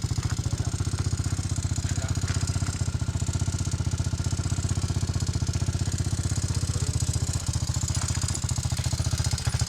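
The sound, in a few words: motorbike engine idling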